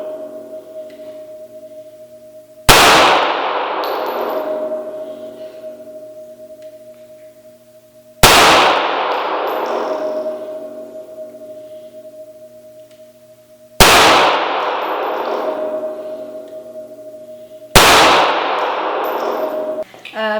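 Four loud, sharp 9mm pistol shots from a Smith & Wesson M&P9 M2.0, spaced several seconds apart, each with a sudden crack and lingering decay over a steady background hum.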